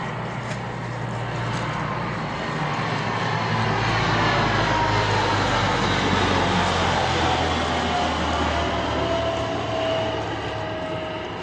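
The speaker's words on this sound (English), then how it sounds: "So instead of a heron, we got some kind of plane there." An airplane passes overhead, a steady broad roar that swells slightly toward the middle and holds for the whole stretch, with no voices.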